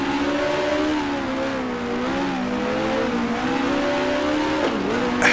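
Engine of a 1966 race car in Grand Prix Legends at Warwick Farm, a loud sustained buzzing drone whose pitch rises and falls as it brakes and accelerates, with a brief tire squeal near the end.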